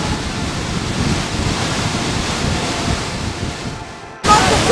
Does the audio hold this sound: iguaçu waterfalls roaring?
yes